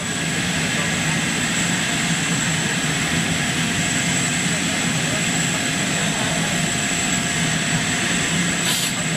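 Jet engines of a British Airways Boeing 747 in retro livery spool up at London Heathrow, giving a steady, loud roar with a thin high whine sustained throughout.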